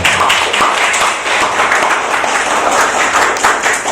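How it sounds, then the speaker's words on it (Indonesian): An audience at a fifth-grade report card and award ceremony at an Islamic full-day primary school bursts into sustained clapping, steady and fairly loud throughout, with no voices over it. "Tepuk tangan tuh."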